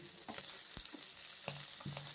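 Tengra fish fry lightly in hot oil in a pan, giving a soft, low sizzle broken by a few sharp crackles and pops, with no one talking.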